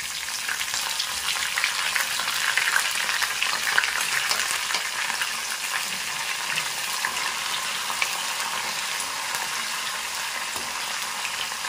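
Cumin, green chillies and curry leaves sizzle in hot oil with a dense, steady crackling hiss that holds at an even level throughout, with no voices.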